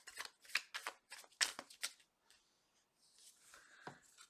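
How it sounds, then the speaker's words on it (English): A deck of tarot cards is shuffled by hand close up, with a quick run of crisp riffling bursts followed by softer sliding and tapping as the cards settle, no talking. "Last shuffle."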